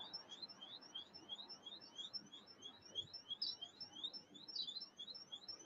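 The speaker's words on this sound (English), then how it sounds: "Somebody car alarm going on?" An alarm of an unusual, odd pattern, taken for a car alarm, wails with a steady run of rapid high chirping tones repeating throughout, moderately loud and continuous with no talk over it.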